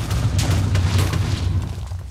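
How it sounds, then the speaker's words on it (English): Deep, rumbling booms from Minecraft explosions roll continuously through the short stretch, heavy low-end blasts that stay loud without a break. "Oh man, I keep hearing explosions"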